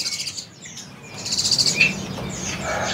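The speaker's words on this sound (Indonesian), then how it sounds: "Ini ya mantenan kuning ombe ya." A mantenan kuning songbird chirps in quick, bright twittering bursts at a bird market kiosk, fairly close, over a steady background hum of the market with no talk.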